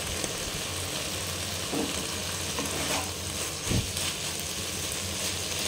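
Chicken cooking in its own juices in a pan, a steady close bubbling sizzle with occasional clinks and scrapes of a utensil, no talking.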